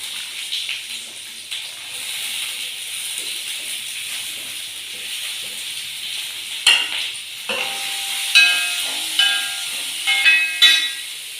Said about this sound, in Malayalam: ആദ്യം ഉള്ളി ഇട്ട് കൊടുക്കാം ഉള്ളി ഇതിലേക്ക് ചേർത്ത്